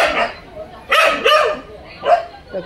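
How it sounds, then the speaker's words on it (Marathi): A dog left behind after its companion dog went away whines and yelps in several short, close, plaintive bursts separated by brief pauses. "म्हणून तो टायगर गेला ना की असा रडत राहतो"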